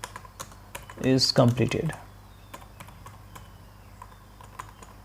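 Typing on a computer keyboard while writing a Python program, steady clicking keystrokes at close range, with a short burst of speech over the keys partway through.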